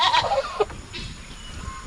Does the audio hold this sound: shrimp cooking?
no